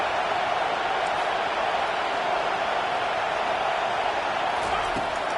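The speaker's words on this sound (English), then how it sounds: "Decibels rising as the crowd gets behind this defense on 3rd down." A football stadium crowd roars on a third-down defensive stand in Texas, a dense, steady wash of distant cheering with no breaks.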